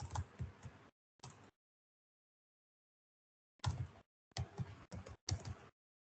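Short bursts of keystrokes on a computer keyboard while programming Java code, a quick cluster of taps, a pause, then several more rapid bursts, close and fairly quiet with no voice.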